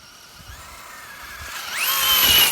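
A Traxxas Slash 2WD RC truck's electric motor whines and rises sharply in pitch under throttle, getting louder toward the end.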